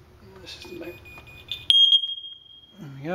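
A shrill, steady electronic beep from a smoke detector being tested sounds briefly, then cuts into a loud continuous alarm tone that fades out, with some speech before and after.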